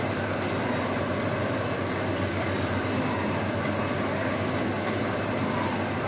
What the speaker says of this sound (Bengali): এটাও আসলে একটা নিটিং মেশিন। সো এগুলো সব নিটিং মেশিন।